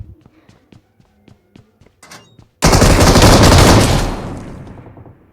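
A shotgun fires in a video game: after a few light taps and thuds, one loud close blast erupts and rumbles away over about two seconds.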